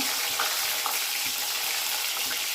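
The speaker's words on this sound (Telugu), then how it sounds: "ఆయిల్ వేడైంది ఇప్పుడు పచ్చిమిర్చి ఉల్లిపాయ వేసుకొని కలుపుకోవాలి వేగే వరకు" Green chillies and chopped onion sizzle in three tablespoons of hot oil as they are stirred. It is a dense, loud, unbroken frying hiss up close, with faint soft knocks of the stirring spoon and no voices.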